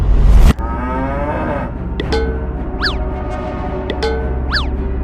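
Cattle moo in a long, loud low call, then several shorter rising bellows follow over steady background noise, close and clear with no talking.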